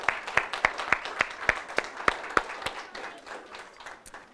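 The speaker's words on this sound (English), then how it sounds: "Let's give them a round of applause." An audience at a child care access event gives a round of applause, starting with crisp, evenly spaced claps standing out in the mix, then thinning and tapering off into softer scattered clapping near the end.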